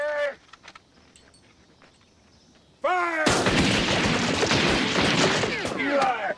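A loud, dense volley of rifle gunfire in a historical adventure film erupts suddenly after a quiet stretch. Overlapping shots crack and echo for several seconds, with shouted voices before and during the volley.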